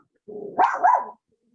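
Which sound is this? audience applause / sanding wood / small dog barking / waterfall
small dog barking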